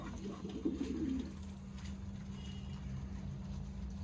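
A pigeon coos low and soft in a short burst near the start, then a quiet steady outdoor background continues without it.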